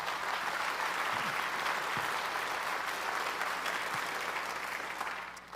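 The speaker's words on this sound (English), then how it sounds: "let's give a round of applause" An audience at a college convocation applauds in a broad, sustained wash of clapping that holds steady and then tapers off at the end.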